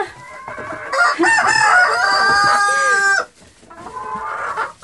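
Hens and a rooster on a small farm hen house, close loud clucking and a crowing call overlapping, busy and agitated, with no talking.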